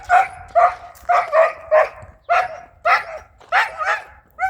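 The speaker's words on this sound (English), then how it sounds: "the dogs are loud as fuck" Several dogs barking loudly and close by at a house, repeated bursts of barks in quick clusters with brief pauses, no talk over them.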